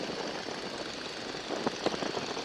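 A Stearman biplane's engine drones steadily in flight, a broad continuous roar filling the cabin with a few brief louder knocks near the end; no one speaks.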